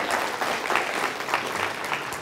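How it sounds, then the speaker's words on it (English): Audience applause at a magic show: a steady wash of many hands clapping, moderately loud and even throughout, with no speech over it. "Big round of applause."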